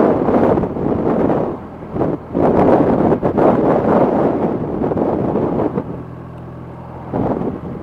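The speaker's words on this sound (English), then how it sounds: "Oh, it's windy, man. It's windy." Heavy, buffeting wind roars against the microphone in loud gusts while riding a 2023 BMW R 1250 RT motorcycle, with a low engine drone underneath that steadies toward the end.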